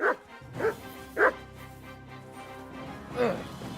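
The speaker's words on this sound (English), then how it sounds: "No, he's got a dog!" Dog barks in the video game Kingdom Come: Deliverance II, four sharp barks spaced unevenly over a low background drone, fairly close and moderately loud.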